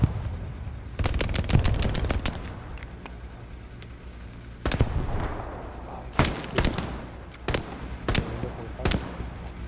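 Gunfire in the World War II shooter game Hell Let Loose: scattered sharp shots and short bursts, some close and loud, others quieter, with a voice faintly present in the background.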